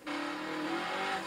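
A car in the racing game Burnout Paradise roars away with a steady engine drone and a hint of tire noise, close and continuous for a brief moment with no talk.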